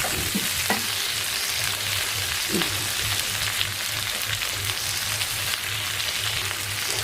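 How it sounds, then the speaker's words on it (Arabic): Onion and meat sautéing together in a pot, a steady close sizzle with occasional stirring scrapes and a low hum underneath throughout. "هنشوح كده البصل مع اللحمه"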